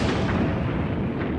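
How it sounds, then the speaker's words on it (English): Artillery bombardment from the First World War trenches: a dense, continuous low rumble of distant heavy guns and explosions, loud and unbroken throughout, with no voices. "massive artillery bombardments"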